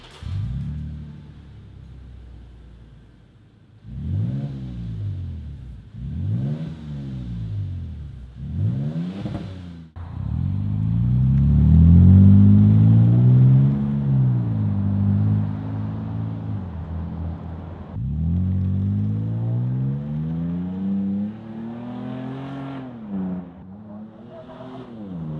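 A Toyota Tacoma fitted with a 3-inch stainless exhaust revs in three quick blips, then holds a longer, louder rev that rises and settles. A final shorter rev follows. The engine is close and the exhaust note is deep.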